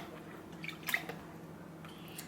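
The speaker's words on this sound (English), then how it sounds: "dip it in the water, give it a little spin, make sure all of it gets coated" A food wrapper is dipped and swirled in water for a plant-based dish, giving a few faint, soft drips and small splashes close by in a quiet room.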